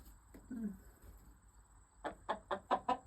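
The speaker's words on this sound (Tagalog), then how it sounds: "Roaster ang manok ni San Pedro" A chicken clucks near the microphone, a quick run of five or six sharp, rising clucks in the second half after a softer low call earlier, in a quiet backyard setting.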